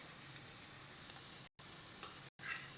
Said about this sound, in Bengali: পেঁয়াজটাকে হালকা করে ভেজে নিচ্ছি